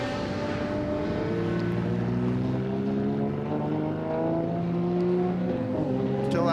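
Several Chevron sports-prototype race cars battle wheel to wheel at a circuit during a Le Mans Classic 2022 grid race, engines droning steadily with rising and falling pitch sweeps as they run close together, loud and continuous.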